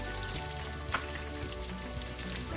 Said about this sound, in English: I'm going to add the sliced red onion